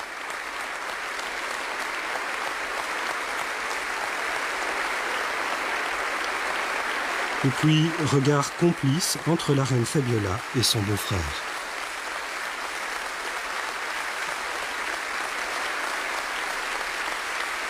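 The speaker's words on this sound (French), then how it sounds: "Longs applaudissements de pratiquement tous les représentants de la nation." Long, steady applause from national representatives fills a Belgian parliament chamber at the 1993 swearing-in of King Albert II, a dense even roar heard at a distance while a commentator speaks over part of it.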